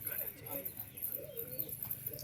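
A pigeon coos softly in low, rolling notes. A voice talks over the cooing at close range.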